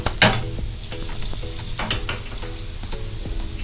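Veg kabab frying in oil in a pan, a steady close sizzle running throughout with a sharp crackling burst near the start and faint scraping of stirring underneath.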